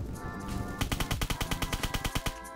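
Rapid automatic gunfire in Apocalypse Rising 2 rattles out as a fast, even string of about fifteen sharp shots, close and loud, after a brief quieter lead-in.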